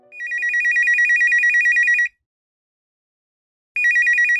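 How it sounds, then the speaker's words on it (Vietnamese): A telephone rings with a fast electronic trill, one long burst of about two seconds, a pause, then a second burst starting, loud and close with no voices. "Em nghe điện thoại đi, mẹ chắc đang lo lắng cho em lắm đấy"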